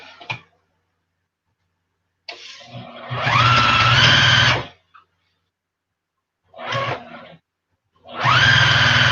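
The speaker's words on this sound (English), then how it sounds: "I ran out of bobbin thread, Martha." Sewing machine stitching binding on a quarter-inch seam for advent calendars, running in two long close bursts with shorter starts and stops between them, no talk.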